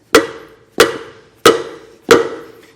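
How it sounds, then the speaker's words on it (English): Four evenly spaced sharp metallic strikes ring out close and loud as a hammer hits the end of a screwdriver to pop a grease seal from a trailer hub, each hit decaying quickly before the next, with no speech. "I'm going to hit the end of my screwdriver to help pop it out"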